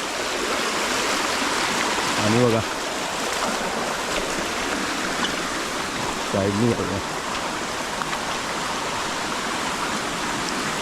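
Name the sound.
forest stream flowing high after rain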